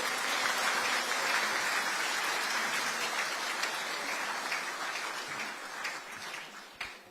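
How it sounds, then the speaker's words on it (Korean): An audience at a Korean independence movement commemoration applauds young descendants of independence activists: dense, sustained clapping that slowly thins out toward the end. "박수 한번 부탁드립니다."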